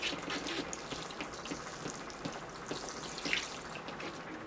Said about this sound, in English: All right, here I go with the water.